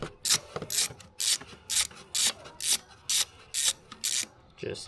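A T30 Torx bit working a bolt loose on an MK7 car during an intake elbow upgrade, a series of about ten regular rasping ratchet clicks close up, with short quiet gaps between them.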